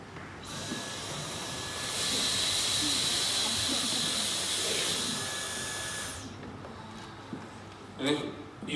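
A Dyson Cyclone V10 cordless vacuum cleaner starts up into a loud, steady high-pitched whooshing whine, holds for several seconds and then cuts off, leaving quieter room sounds with faint voices.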